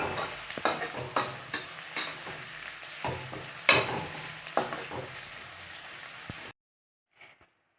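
Onions fry in a pan for chicken masala, a steady close sizzle broken by repeated scraping stirs, ending abruptly in near silence.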